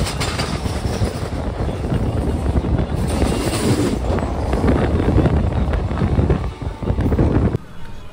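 Simhadri Express train rolling along just past the Godavari bridge, a continuous loud rumble and rattle of carriages mixed with heavy wind buffeting the microphone, the roar dropping abruptly near the end.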